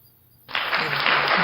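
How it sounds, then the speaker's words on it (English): Audience applause at a talk-show style discussion, starting abruptly after a short quiet moment and continuing as a steady, fairly loud burst of clapping. "Get a round of applause for that."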